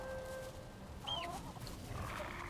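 Chickens in the Valheim survival game give soft, faint clucks and a brief squawk over low ambient game background, quiet and a little distant.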